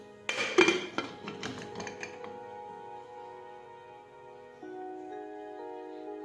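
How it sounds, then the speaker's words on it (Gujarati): A pressure cooker lid is set on and closed over boiling dried cowpeas, giving a burst of close metallic clinks and clanks, then a fading ring and a quiet steady hum. "હવે આપણે કુકરનું ઢાંકણ છે તે બંધ કરી દઈશું।"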